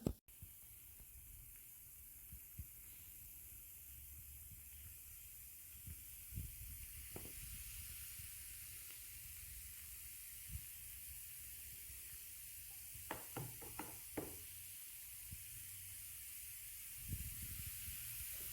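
Continuous quiet fizzing and crackling of bubbles popping at the surface of fermenting starfruit mead after its fruit cap is punched, with occasional small taps and clicks scattered throughout.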